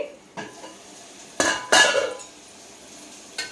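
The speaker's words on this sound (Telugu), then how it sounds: "మూత పెడదాం" A metal lid clatters onto a pot of bottle gourd curry: a few sharp, close clanks and a brief rattle as it settles, then quiet, with one more light knock at the end.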